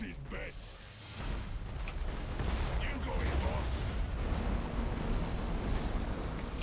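Starship weapon batteries firing in the space strategy game Battlefleet Gothic Armada 2, a dense rumbling barrage of booming shots and crackling impacts that builds after a quieter start, with someone talking over the din.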